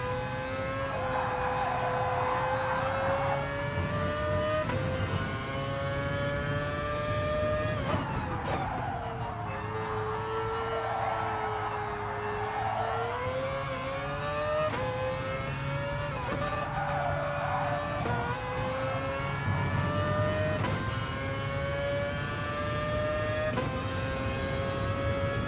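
Mazda RX Vision GT3 Concept race car in a video game, its high-revving engine wailing loudly and steadily through upshifts and braking, pitch rising and falling with tire squeal at moments, no talking.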